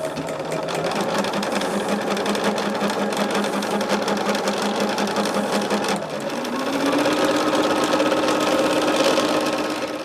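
A sewing machine runs steadily while stitching quilt pieces for a preppy quilt, a close, continuous mechanical whir that shifts slightly in pitch partway through as the motor speed changes.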